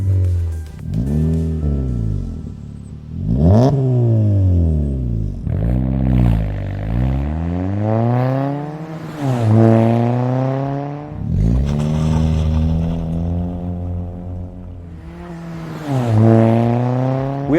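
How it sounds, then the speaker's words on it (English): A 2022-2025 Honda Civic (1.5T or 2.0L) with a single-exit performance exhaust and tuned resonator revs repeatedly, each rise and fall loud and close, with a raspy, harmonic-rich tone and no talking. "Our resonator is tuned with a unique sound that has reminiscence of old Hondas from the late 90s and early 2000s."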